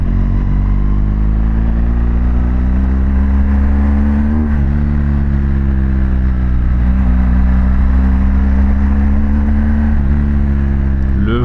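A BMW GS Adventure motorcycle engine drones loudly and close, its pitch climbing and dipping as the throttle is worked, running continuously with no voices.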